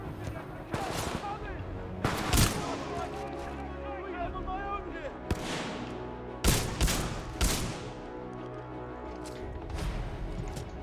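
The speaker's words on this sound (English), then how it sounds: "Visual contact re-established with pilot. Commencing supporting fire." A Titan lays down supporting fire in Titanfall 2, with heavy gunfire arriving in loud, irregular bursts of sharp shots and booms over ongoing combat noise, while voices talk underneath.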